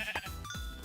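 A sheep bleats in a video game, a short close wavering call with a quick second pulse, heard alone.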